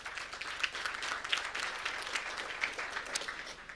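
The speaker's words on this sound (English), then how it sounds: "let's give him a round of applause" Applause for a contestant at a technical SEO conference, a moderate crowd clapping briefly and unevenly, with individual claps standing out against the softer wash of hands.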